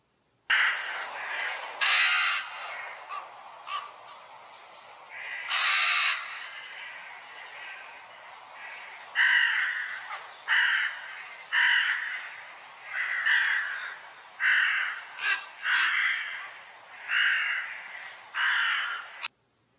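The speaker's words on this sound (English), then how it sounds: "Now here's a sound clip of ravens to play" Harsh, croaking common raven calls repeat in irregular bursts, loud and close, with short pauses between groups of caws.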